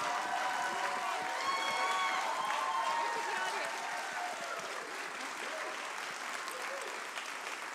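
An audience at the Soapbox Nation mainstage event gives speakers a sustained round of wild applause, dense steady clapping with some cheering throughout, while a voice speaks over it.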